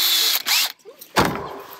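A power drill drives stainless steel screws into a plastic rainwater tank flange, giving loud whirring bursts with short pauses and a ratcheting mechanical edge, close by with no talking.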